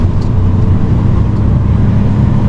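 Truck hauling a DX300 excavator on the road to a tunnel construction site, a steady loud engine drone and road rumble throughout, no voices.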